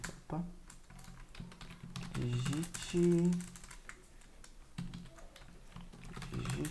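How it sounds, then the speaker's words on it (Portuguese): Fingers type on a computer keyboard in quick, light taps that come and go across the stretch, with someone talking over them. "Vou digitar um valor qualquer aqui"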